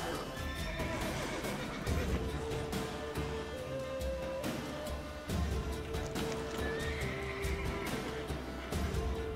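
Horse from The Witcher 3 neighing and whinnying over a steady clip-clop of hooves, with game music and ambience running continuously underneath.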